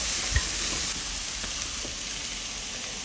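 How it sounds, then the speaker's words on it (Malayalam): Bitter gourd and onions sauté in a pan for sambar, giving a steady, even sizzle throughout with a few faint clicks and one soft knock early on. "ഇനി നമ്മൾ അരിഞ്ഞു വെച്ചേക്കുന്ന കയപ്പ് കയ്യിലേക്ക് ചേർക്കും കുറച്ച് നേരം അത് വഴറ്റുക"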